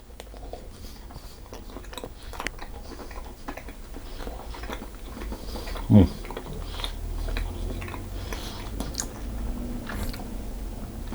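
Someone eating a buttered slice of hot cross bun loaf: soft, close, moist chewing in an irregular rhythm, with one louder bite or knock midway.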